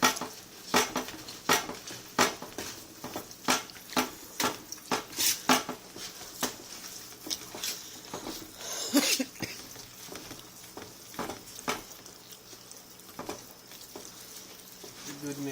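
Meat and gristle stirred around in a pan, giving a steady run of clinking, scraping utensil taps and soft sizzling patter that carries on for a while in a nearby cooking setting.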